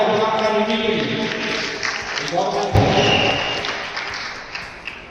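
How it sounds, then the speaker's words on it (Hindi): A comedy event crowd in Hyderabad applauds for Imran Khan, a steady wash of clapping with a few thumps while someone talks over it. "जोरदार तालियां इमरान खान के लिए"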